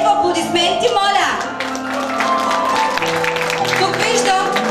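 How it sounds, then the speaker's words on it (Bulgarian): Wedding guests applaud and clap together in a hall, a steady loud patter that runs throughout, with music and voices mixed in. "Аплодисменти, моля."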